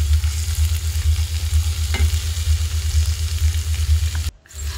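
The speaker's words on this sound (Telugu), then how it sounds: "వాటిని ఇప్పుడు కూరలో వేసేసుకొని మంచిగా ఫ్రై చేసుకోవాలి" Brinjal and garlic pieces fry in a pan for a masala fry, a steady close sizzle with stirring scrapes, briefly cut off near the end, with no voices.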